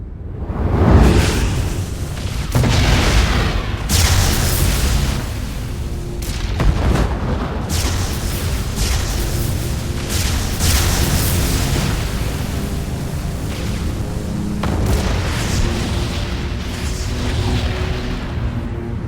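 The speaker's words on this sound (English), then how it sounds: "The warp ray is a specialist Protoss flyer that does additional damage the longer it fires at a single target." Protoss void ray weapon fire in the real-time strategy game StarCraft 2, a loud continuous roaring beam layered with repeated booming impacts and explosions, dense and sustained with no voices.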